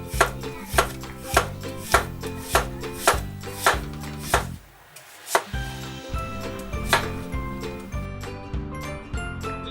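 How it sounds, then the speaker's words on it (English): A knife slices an apple into thin pieces on a cutting board, each cut landing as a sharp knock in a steady rhythm of roughly two per second, pausing briefly midway, then resuming with quieter, tighter taps. "And now we cut the thin slices."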